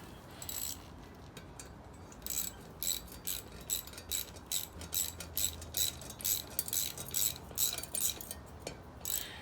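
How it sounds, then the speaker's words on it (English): A ratchet fitted with a 13mm bit tightens a dynabolt into a concrete slab, giving a steady series of crisp, close clicking bursts with brief pauses between strokes, no voices. "I've then got my ratchet"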